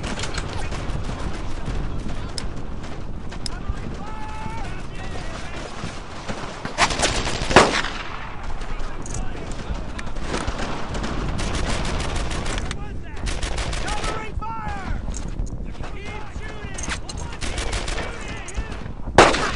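World War II gunfire in the video game Brothers in Arms: Earned in Blood, with repeated rifle and machine-gun bursts, some close and loud, others farther off, during a squad assault on Flak 88 guns, with shouted voices mixed in.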